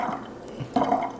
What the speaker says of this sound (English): now we strain out the graham cracker syrup